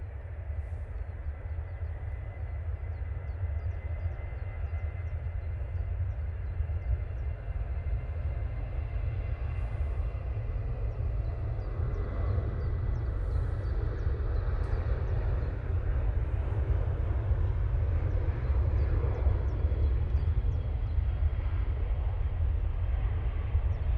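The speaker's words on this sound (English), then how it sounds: "after this Ryanair departs" A Ryanair airliner departing Manchester Airport in low visibility, heard as a steady, heavy, deep engine roar with broad rushing noise that holds loud throughout, distant but strong, with no talk.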